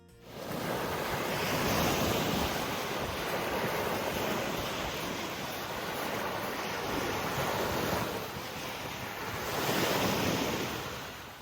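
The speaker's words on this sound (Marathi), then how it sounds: "या ठिकाणी पाण्याच्या ज्या लाटा आहेत त्या खूप जास्त प्रमाणामध्ये आहेत" Strong waves at Needle Point in Point Pelee National Park, Canada, break in a continuous heavy wash that swells and eases, mixed with wind buffeting the microphone; no one speaks.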